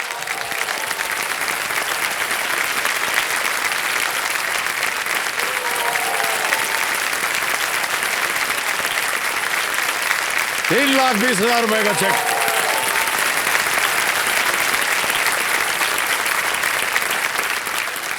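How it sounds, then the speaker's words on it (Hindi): Studio audience on the KBC game show applauds steadily, the clapping loud and continuous throughout while a host speaks over it. "ताली बज जाए इनके लिए"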